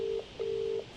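Telephone dialing tones sound in a game, two steady electronic beeps, one short and one longer, clean and moderately loud with a brief gap between them.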